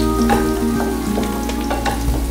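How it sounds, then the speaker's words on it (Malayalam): Crushed shallots and garlic sautéing in a pan with a constant close sizzle and frying crackle, broken by occasional stirring scrapes, no talking. "അത് നമ്മൾ നന്നായി ചതച്ചെടുത്തിട്ടുണ്ട്. അതൊന്ന് വഴറ്റിയെടുക്കുകയാണ്."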